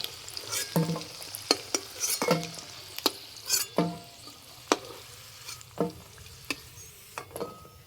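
Flour pithe frying in hot oil, with a soft continuous sizzle under frequent sharp clinks and scrapes of a utensil against the pan, close and fairly busy throughout.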